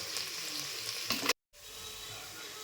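Ginger garlic paste sizzles loudly in a pan, breaks off into a brief silence, then the frying resumes as a steady hiss, with no talking.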